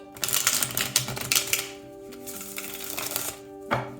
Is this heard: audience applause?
no